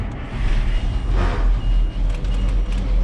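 A diesel engine with 32.8 cranks and fires up, settling into a loud, rumbling idle that runs continuously with a heavy low-end drone and faint high beeping in the background.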